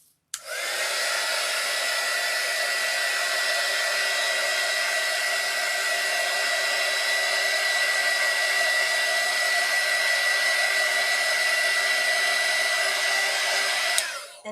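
A hair dryer blows over alcohol ink on a ceramic tile, a loud, steady whirring roar that switches on, holds evenly for about fourteen seconds and cuts off, with no voices over it.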